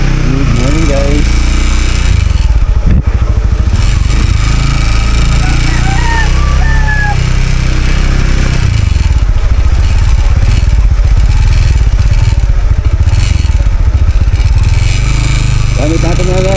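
Honda Winner X motorcycle engine droning steadily and loudly up close while riding a muddy road, with intermittent rattles and a sharp knock partway through; a voice speaks briefly under the engine noise.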